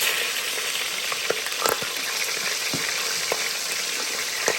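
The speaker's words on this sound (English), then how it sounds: "While we're searing" Meat sears in an Instant Pot with a bright, steady sizzle, broken by a few sharp pops and crackles, heard up close with no talking.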